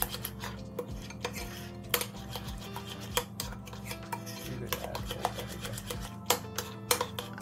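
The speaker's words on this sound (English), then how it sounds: "combine all ingredients together for a delicious sauce" A utensil stirs and scrapes briskly in a bowl, combining the ingredients and vinegar for the sauce of a mackerel salad; the clicks and clinks are close and irregular, with no talking.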